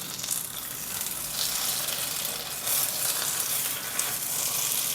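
Patishapta pitha made with milk cream sizzles steadily in a hot pan, a close, continuous frying hiss with small crackling bursts and no voices over it.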